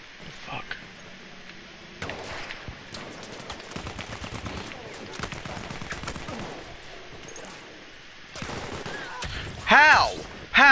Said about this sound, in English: I'm shooting you with a machine gun